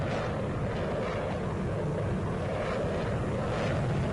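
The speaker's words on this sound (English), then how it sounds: "the aircraft is shifting about those engines, very powerful" Powerful military jet engines at maximum power during a Nellis air show demo, a steady, loud, continuous roar that fills the whole clip.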